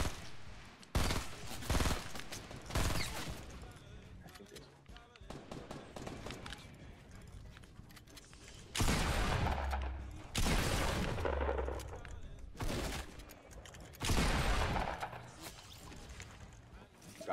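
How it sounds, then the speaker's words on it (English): Gunfire in the Fortnite video game, repeated bursts and volleys of shots, some loud and close, others fainter, scattered among game noise while players talk over it. "There's somebody shooting."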